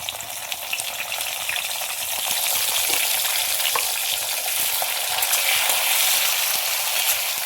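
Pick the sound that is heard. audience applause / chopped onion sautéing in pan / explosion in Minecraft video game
chopped onion sautéing in pan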